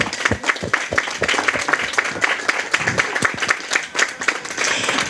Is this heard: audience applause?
yes